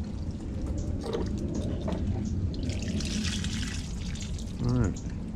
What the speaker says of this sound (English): I kind of want to just dump this water out